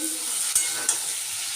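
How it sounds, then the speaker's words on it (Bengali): Taro pieces fry in oil in a pan with a bright, continuous sizzle, broken by two quick stirring scrapes. "একটু আমি তেলে ভালো করে এটাকে ভেজে নিচ্ছি"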